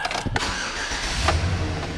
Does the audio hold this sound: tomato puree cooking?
no